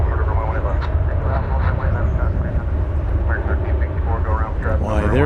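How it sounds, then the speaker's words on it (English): An American Airlines Airbus A321 from Fort Lauderdale arrives at DFW Airport, its steady, loud jet roar filling the whole stretch, with faint voices beneath. "American 1364 from Fort Lauderdale is an Airbus A321, and it's just about here."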